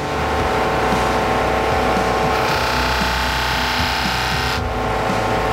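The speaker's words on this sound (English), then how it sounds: "I'm going to polish and buff a Brembo metal cylinder to make it nice and smooth" A buffing machine polishes a Brembo metal cast cylinder smooth ahead of copper plating. It gives a loud, continuous motorized whir with steady broadband hiss, and a brighter abrasive layer joins midway before easing near the end. No voices are heard.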